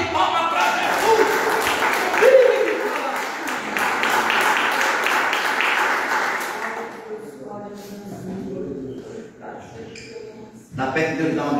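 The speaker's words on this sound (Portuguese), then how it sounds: "Quem acredita, dá uma salva de palmas para Jesus." A church congregation claps for Jesus as a voice carries on over it; the dense applause holds for about seven seconds, then drops away to quieter talk and scattered sounds.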